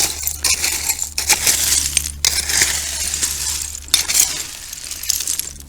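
Pulverized glass and broken Pepsi bottles crunch and clink in bursts as someone digs at a Kinston dump, several close scraping pushes over a low steady hum.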